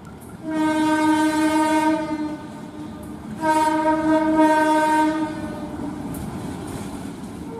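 An Indonesian passenger train's horn sounds two long, loud blasts separated by a pause, over the rumble of rolling rail cars nearby as it arrives at a station in rain.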